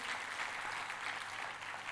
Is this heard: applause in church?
yes